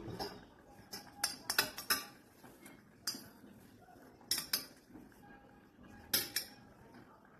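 Steel plates are handled while being brushed with mustard oil, producing bright metallic clinks and taps in irregular clusters with quiet gaps between them. The sounds are fairly close and carry no voices.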